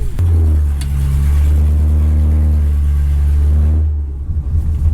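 A 1964 Ford Galaxie 500 V8 idling with its mufflers and exhaust removed, a loud, deep, steady open-pipe rumble held close by, then abruptly cut off, followed by faint background noise.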